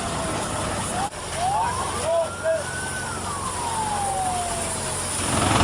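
A fire engine siren wails and sweeps up and down while responding to a fire near Anak Krakatau in Lampung, loud and close over steady traffic and engine noise.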